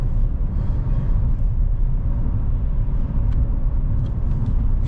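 A car with a small turbocharged engine pulls hard under acceleration, a steady dense low rumble and road roar heard from inside, loud and unbroken with no talk.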